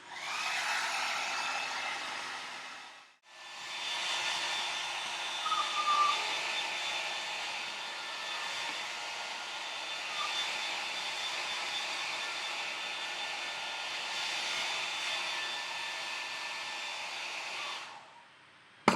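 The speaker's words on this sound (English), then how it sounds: "So what you're doing is just blow drying them to speed up the process." A hair dryer blows steadily on freshly dyed feathers, a loud continuous whooshing roar that cuts out briefly near the start, then runs on without a break before stopping at the end.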